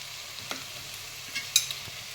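Vegetables being stirred in a frying pan while cooking down with salt, giving a soft low sizzle with a few scraping spoon strokes and clinks.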